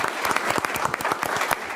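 Brisk applause from the audience at an Ogden city council meeting, a short burst of many clapping hands close by and fairly loud.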